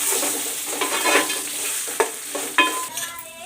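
Carrots stir-fried with peanuts and dal for carrot pulihora, a steady sizzle with scraping stirs and a couple of sharp knocks of a spoon on the pan, no speech.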